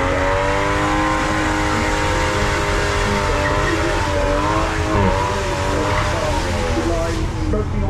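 A V12 supercar at the Goodwood Festival of Speed screams as it revs up the wet hill climb, a loud sustained engine howl with rising and falling pitch and a commentator talking over it.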